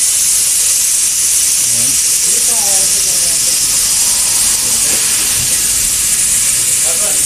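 Hoses being connected to the high and low side service ports of a Mitsubishi air conditioner release a loud, steady hiss of escaping refrigerant that fills the whole clip while someone speaks briefly over it.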